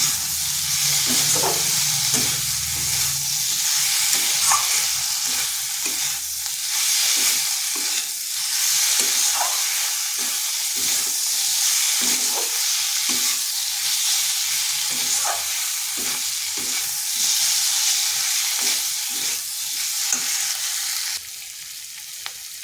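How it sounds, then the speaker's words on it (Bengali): Potatoes stir-fried with masala in a pan give a steady loud sizzle and hiss, broken by repeated scraping and stirring strokes of a spatula, close up and without talk. "আলুটাও এই মশলার সাথে ভালো করে কষে নেব।"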